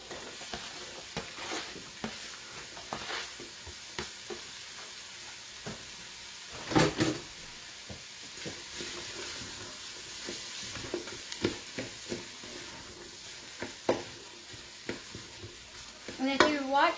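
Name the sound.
sautéing Italian sausage and chopped onion in pressure cooker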